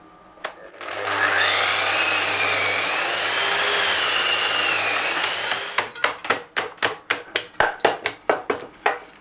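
A saw set for trenching cuts into timber for a half lap joint, giving a loud, steady whining grind for several seconds, then a quick series of sharp rhythmic taps as the waste is knocked out.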